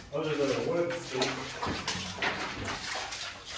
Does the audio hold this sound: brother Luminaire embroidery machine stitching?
no